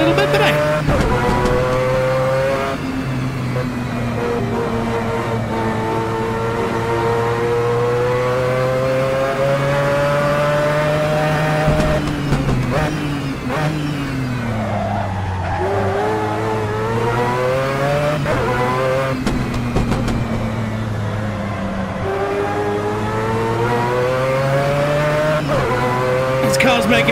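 A Mazda 787B race car screams at high revs for the whole stretch, its rotary engine note rising and falling through gear changes and corners, loud and steady throughout.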